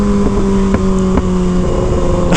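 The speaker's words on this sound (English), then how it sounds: "It's just ASMR of my exhaust" A Kawasaki ZX-6R motorcycle's exhaust drones loudly and steadily as it idles up close, a low humming rumble broken by faint periodic pops.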